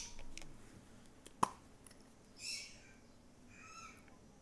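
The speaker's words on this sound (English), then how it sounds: "that bird is very loud" A bird in Animal Crossing on the GameCube gives a few short, high chirping calls after a single sharp click, fairly quiet against a faint hiss.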